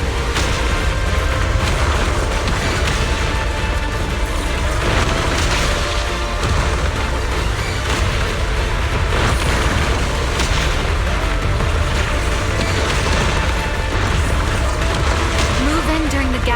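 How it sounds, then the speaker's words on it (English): Repeated booming explosions around a cocoon in the Zenless Zone Zero video game, heavy low blasts recurring over a continuous rumbling battle bed, with characters' voices mixed in. "Move in during the gaps between explosions."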